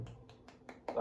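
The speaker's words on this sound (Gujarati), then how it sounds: "જો તાળી વાગે છે" A one-handed clap or finger snap repeats about five times in quick succession, soft and close, with a voice starting to speak at the very end.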